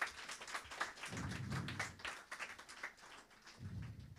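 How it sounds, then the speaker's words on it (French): A church congregation claps and applauds during a Sunday worship service, a steady patter of many hands at moderate level, fairly close, with no talking over it. "On veut nous applaudir."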